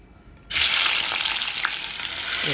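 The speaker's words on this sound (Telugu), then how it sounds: "కడాయిలో నూనె వేసుకుని సరిపడా ఈ దొండకాయ ముక్కల్ని వేయించుదాం." Ivy gourd pieces dropped into hot oil in a pan burst into a loud, sudden sizzle that holds steady and bright after a quiet moment, with a faint clink near the end.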